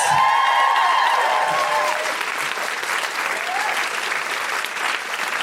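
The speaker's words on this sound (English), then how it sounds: "Big round of applause for Liz!" A crowd at a live comedy podcast recording breaks into a loud round of applause for a guest, with some whoops and cheers rising over the clapping early on.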